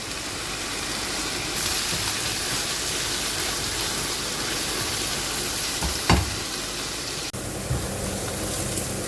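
Onions and tomatoes sautéing with salt in a pan for a South Indian anchovy dish, a steady broadband sizzle running throughout with a brief stir clatter near the end, no talk.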